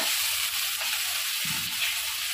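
Chopped onion and tomato frying in hot oil in a pan give a steady, close crackling sizzle throughout, with one short low clunk of the pan or spoon midway.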